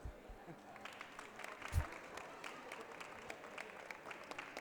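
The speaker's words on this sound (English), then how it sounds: "Let's give them a big applause." Applause for speakers at an FAO World Food Forum side event. The clapping is scattered and moderate, with a few distinct claps and a low thump, and it stays fairly faint throughout.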